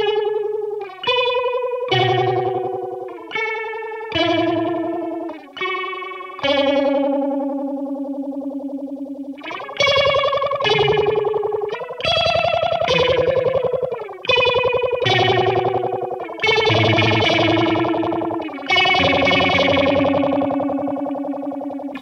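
Electric guitar notes and chords drenched in swirling chorus, phaser, echo and mild distortion, ringing out in a loose, spacey phrase with no voices.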